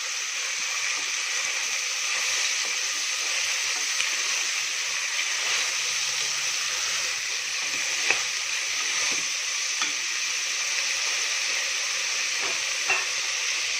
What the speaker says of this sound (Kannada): ಇದೆಲ್ಲ ಸ್ವಲ್ಪ ಫ್ರೈ ಆಗಲಿ.